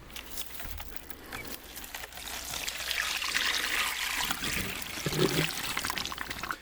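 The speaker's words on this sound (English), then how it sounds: "let's go fill it up now. We got some nice fresh water ready to go in" Fresh water pouring into a betta fish tank, a steady splashing trickle that swells in the middle and carries on without talk.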